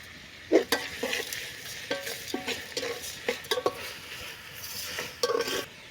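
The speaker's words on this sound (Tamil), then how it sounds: "தக்காளி வதங்கிறது" Tomatoes sautéing in a pan for a chicken biryani: a spoon scrapes and stirs in quick, uneven strokes over a soft, close sizzle.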